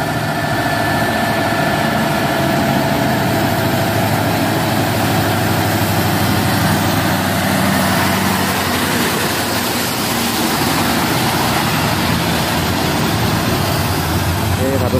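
Diesel engines of two trailer trucks idle steadily at a roadside accident scene near oil palm trees, a continuous loud low rumble with constant vibration lasting throughout, with people talking over it.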